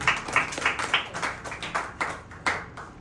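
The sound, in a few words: congregation clapping hands in church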